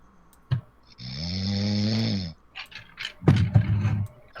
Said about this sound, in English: my dog is snoring too